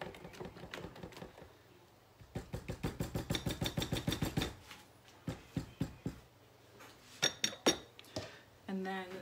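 A spoon stirs a frozen banana treat mixture sweetened with monk fruit. Quick, rhythmic clinks ring against the bowl in a fast run, then sparser taps and a final burst of clattering.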